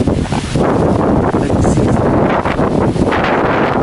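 Strong, steady typhoon wind in Roxas, Isabela, roars and buffets the microphone without letup, a dense broadband rush with gusty surges throughout.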